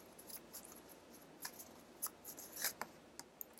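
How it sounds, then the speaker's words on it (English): Tarot cards from a Cosmic Tarot deck are shuffled by hand in soft, close, irregular riffles and slides, quiet and crisp, with no voice over them. "So I'm shuffling again."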